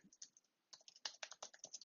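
Quick bursts of typing on a computer keyboard while writing Python code for a rock-paper-scissors game, close and clicky, a short pause then a rapid run of keystrokes.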